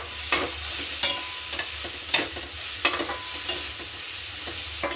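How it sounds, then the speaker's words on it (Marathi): Soaked moong dal is stirred in masala paste in a hot pan, with a steady sizzle broken by repeated close scraping clinks from a spatula at a loose rhythm, and no talking. "डाळीला 1 मिनिटभर परतून घेऊ"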